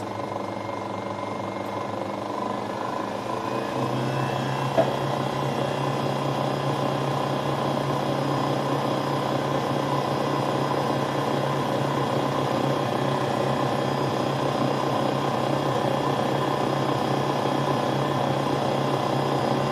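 An electric mixer whips egg-white custard cream for a sponge cake, giving a steady, continuous motor whir at high speed that holds evenly for about twenty seconds with no voices over it.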